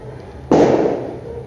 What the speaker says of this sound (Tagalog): Sige, paputok pa.